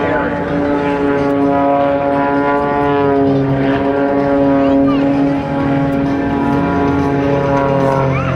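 A 400-horsepower aerobatic propeller airplane hovers during an airshow maneuver, its engine and prop giving a loud, steady droning roar with strong harmonic tones throughout, while a public-address announcer talks over it.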